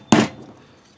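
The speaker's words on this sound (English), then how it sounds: "you can try hammering it in with a dowel, like a wooden dowel, which I'm going to try first" A single sharp knock rings out as a wooden dowel is struck to hammer a part into a Star BM pistol during reassembly, close and brief with a short decay.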